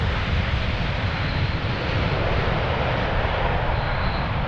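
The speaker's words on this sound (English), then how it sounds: "Look at how long the fuselage is." A long-fuselage airliner arriving on runway 18R at Amsterdam Schiphol Airport gives a steady, loud broadband jet roar that holds evenly throughout, with no voices.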